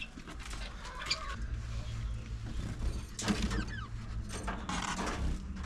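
Farm aviary with caged budgies, Bengalese finches, a zebra finch and chickens: scattered chirps and clucks come in bursts over a steady low hum, with a car-like rumble underneath.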